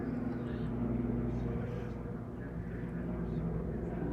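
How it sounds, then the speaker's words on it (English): A hospital life flight helicopter drones overhead at a distance, a faint, steady engine hum with no clear rotor beat, under speech. "That's the hospital helicopter."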